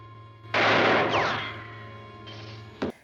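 A single loud gunshot rings out in a film scene from The Fugitive and its echo fades over about two seconds, then a short sharp second impact follows.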